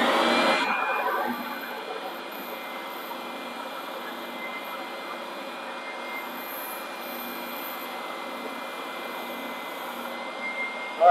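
A WEN oscillating belt and spindle sander starts up with a brief louder surge, then settles into a steady, even motor whir and belt hum that runs alone for about ten seconds.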